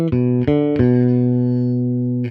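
A rock bass line steps through root, fifth, octave and flat seventh: three quick plucked notes, then a long ringing sustain before a fourth note, played clean and up front with nothing else.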